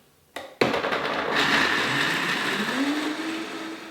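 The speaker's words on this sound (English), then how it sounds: "then all we have to do is blend" Powerful blender whirring steadily as it purees a vegan walnut, cashew and cinnamon ice cream base, starting with a couple of sharp bursts and then running loud and continuous, its pitch slowly rising.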